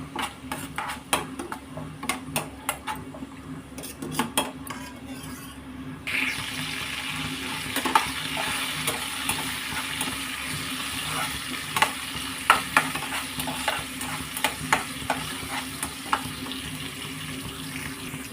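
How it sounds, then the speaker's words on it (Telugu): Onion, cumin and dried chili tempering in oil left from frying paneer, starting with scattered clinks and taps, then a steady close sizzle with spoon scrapes and clatters against the pan. "అదే ఆయిల్లోనండి తాలింపులు వేస్తున్నాను. ఉల్లిపాయ, జీలకర్ర, ఎండుమిరపకాయ వేస్తానండి"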